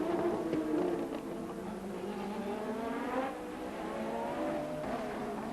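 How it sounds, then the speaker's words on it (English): 1984 Formula One race cars, including a Tyrrell and a Lotus, pass on the Detroit street circuit, a steady high-revving engine roar with overlapping cars and rising and falling pitch, somewhat distant. "Brundle's Tyrrell, which went past Angelus's Lotus into 2nd place"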